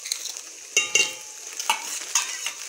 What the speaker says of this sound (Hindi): प्याज हल्का ब्राउन हो गया है, अब मैं इसमें डालती हूँ लहसुन अदरक और सब्ज़ी मिर्चों का पेस्ट।